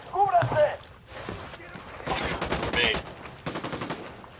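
Gunfire in Ghost Recon Wildlands, a rapid burst of rattling shots with further quick pops after, heard close among game sounds and radio chatter.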